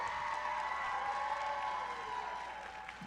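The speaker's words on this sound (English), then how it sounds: "give them a round of applause" A graduation crowd at a school for the deaf commencement applauds its seniors with steady, dense clapping mixed with faint crowd cheering, heard from a distance and fading slightly toward the end.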